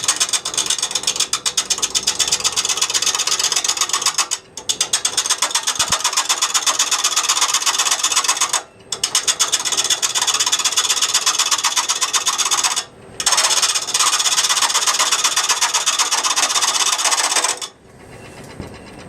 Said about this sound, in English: What you heard is my roughing gouge